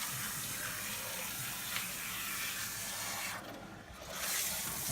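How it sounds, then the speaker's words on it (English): A handheld salon sprayer shooting water firmly onto a client's scalp to rinse out shampoo and color buildup, a steady close hiss and splash with a brief dip near the end. "that really shoots the water up firmly on the scalp to really get all of the color that might be on there"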